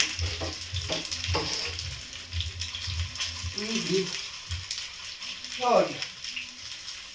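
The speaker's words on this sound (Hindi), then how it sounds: "तो इसे फ्राई होने देते हैं" Momos fry in a pan with a crackling sizzle and bursts of oil and steam, while people talk nearby and low clatter comes and goes.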